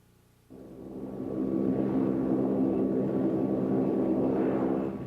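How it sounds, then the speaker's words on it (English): Transport airplane carrying food aid arriving at an airfield in Ethiopia, a steady loud engine drone that swells in after a quiet start and holds for several seconds with no voices. "In Ethiopia, plane loads of food from the West arrive every day."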